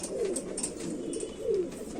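An Indian Rampuri pigeon of Chanda Khani lineage coos twice in low, rolling phrases, close and clear, with faint background rustle and no talking.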